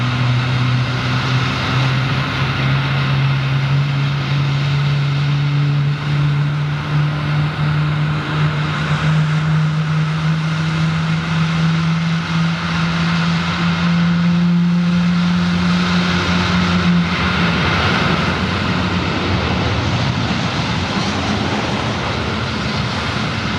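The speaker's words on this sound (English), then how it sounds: "there goes the Qantas A380" A Qantas Airbus A380 passes near Sydney, its loud, steady engine roar holding for over twenty seconds with a rising whine that swells and then eases, and no voices.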